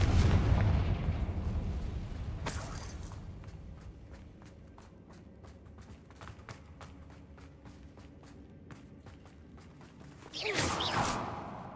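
Confringo blasting spell in Hogwarts Legacy erupts in a loud explosive burst, followed by a quiet stretch of light footsteps and rustling, then another forceful blast near the end.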